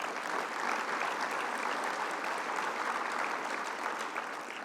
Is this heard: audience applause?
yes